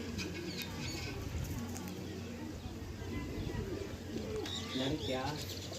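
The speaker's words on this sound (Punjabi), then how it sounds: "ਇਲਾਂ ਦੇ ਵਿੱਚ ਇੱਕ ਕਬੂਤਰ ਫਸਿਆ ਹੈ" Soft cooing of a trapped pigeon close by, a low throaty coo repeating over background murmur and faint voices.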